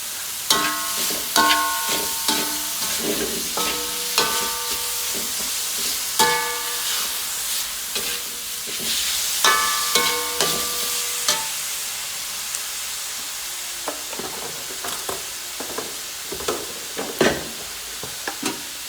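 Small paddy-field fish being stir-fried in a pan, a steady sizzle under repeated sharp metal clanks and scrapes of the spatula, close and fairly loud, no voices.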